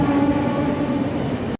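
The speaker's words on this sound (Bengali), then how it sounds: "ফটো সেশন করে এখন ট্রেন ছেড়ে দিল।" Steady rumble and hum of the Rupasi Bangla train pulling out on its way to Purulia, a continuous loud drone with no voices, cutting off abruptly at the end.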